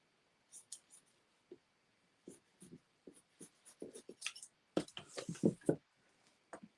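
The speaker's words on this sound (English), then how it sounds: "cut the majority with the big scissors." Big scissors snip away excess embroidery material from a multi-needle machine hoop project, a series of short, crisp cuts in close range, sparse at first and then quickening into a rapid burst of snips.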